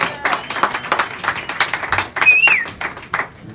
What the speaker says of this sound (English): David Britton, everybody, one more big round of applause.